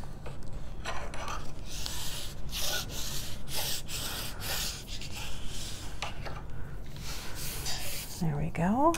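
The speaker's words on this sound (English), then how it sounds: "I'm just gonna use the side to give it a good burnish" A bone folder burnishing paper on a handmade garden collage journal cover makes repeated close, dry rubbing strokes in an uneven rhythm, with soft papery friction throughout.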